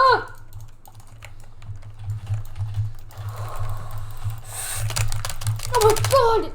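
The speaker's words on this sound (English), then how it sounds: "I was spam clicking actually" Rapid mouse spam clicking during a Minecraft kit PvP fight: dense, fast clicks in irregular bursts over a low hum from the computer, with a voice talking at the start and end.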